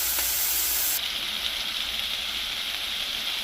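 Hamburger patties frying in a pan, a steady bright sizzle and hiss that carries on continuously with no voice over it.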